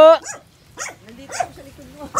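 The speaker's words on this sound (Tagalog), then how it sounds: "dyan na naman yung aso yata" A dog barks several times in short separate bursts, fairly close, with brief pauses between barks.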